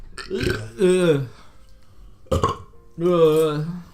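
Loud, close burps from young men, two long drawn-out belches separated by a short sharp one, with brief pauses between them.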